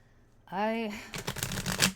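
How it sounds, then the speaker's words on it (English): A brief voiced sound, then a quick burst of cards riffling and fluttering as a thick, tall tarot deck is shuffled, close and clear. "sometimes shuffling decks that are thicker, taller than normal"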